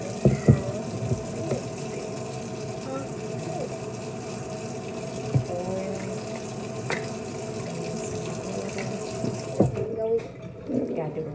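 Water runs steadily for about ten seconds with a gushing, splashing texture, then cuts off abruptly, leaving a few faint clinks.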